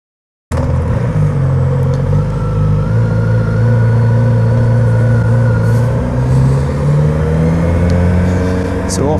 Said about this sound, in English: So off we go, and right away as you start riding this thing, you're going to notice how flippin' smooth it is